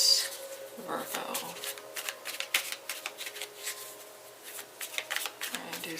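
Tarot cards are shuffled by hand in quick, crisp riffling bursts of flicks and slaps, close and fairly quiet, with brief pauses between shuffles.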